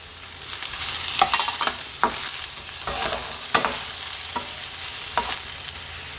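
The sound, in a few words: chicken breast sautéing in a pan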